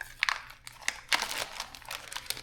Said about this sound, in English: Put them into a plastic bag like this.